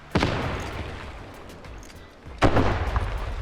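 Two heavy explosive booms in the game Duckside, one at the start and a louder one near the end, each leaving a rumbling, crackling tail.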